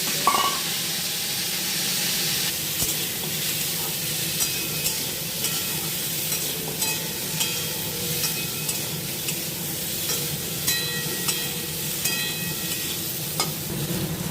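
Olives sizzle and fry in hot oil tempered with five-spice while being stirred for a chutney, a steady loud hiss with scraping stirs and small crackles throughout.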